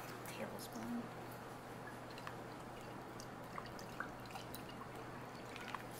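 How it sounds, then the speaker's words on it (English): Worcestershire sauce being poured into a meatloaf mix gives a faint, brief trickle with a few soft drips against quiet kitchen background noise. "And then we're gonna add the Worcestershire sauce."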